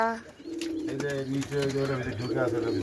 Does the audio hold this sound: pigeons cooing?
yes